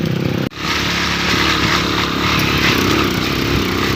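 An enduro motorcycle engine revs hard while climbing a steep hill to a farm, loud and close, buzzing continuously with a brief dip before the throttle opens again, no talk.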